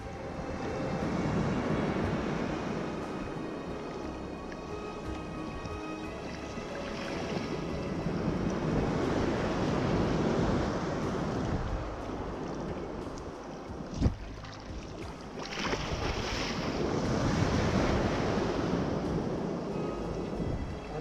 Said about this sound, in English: Very steep beach with little plunging waves.